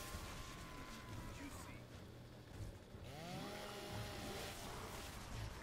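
A revving chainsaw in the video game Gears of War, heard as a buzzing, rising engine whine over game sound effects and a low rumble, fairly quiet overall.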